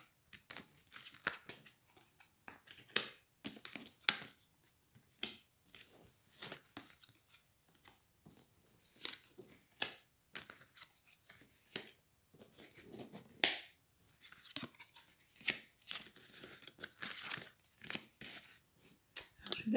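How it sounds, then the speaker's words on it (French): Tarot cards are shuffled by hand in irregular bursts of papery riffles and slaps, some louder than others, with quiet gaps between them and no voices. "Alors, on continue de mélanger autrement."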